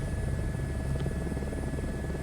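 Airbus H125 Squirrel helicopter spooling up for takeoff in Microsoft Flight Simulator 2024, a steady loud turbine and rotor drone with a constant high whine, unchanging throughout.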